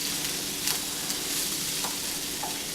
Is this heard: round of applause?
no